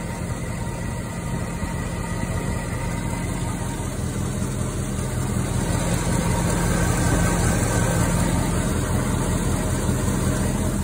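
A 1963 Chevrolet Impala with its original V8, around 65,000 to 70,000 miles, runs at a steady idle, a continuous even engine rumble with no break, and no talking.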